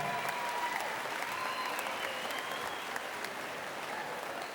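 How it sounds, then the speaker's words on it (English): An audience in a school gym at a boys' basketball game between Olathe West and Olathe North applauds, steady moderate clapping from a crowd at some distance that tapers slightly toward the end. "So can we give a round of applause to Tammy Milkey?"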